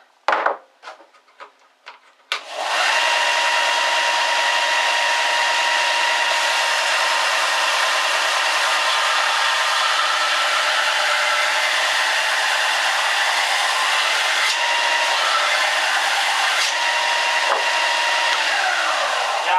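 A Mastercraft 4x36x6 belt disc sander grinding wood under heavy pressure, a few knocks before a loud, steady abrasive whir that holds at full strength without bogging down.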